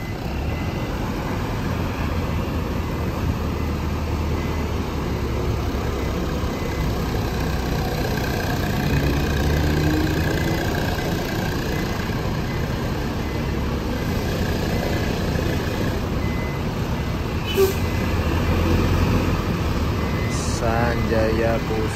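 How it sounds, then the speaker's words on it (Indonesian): A Hino RK260 bus engine idles and rumbles steadily nearby, with faint hissing and squeaks near the end as its air brakes release, under ongoing background noise. "Hino RK 260 ini kayaknya, dari suara rem sama suara mesinnya."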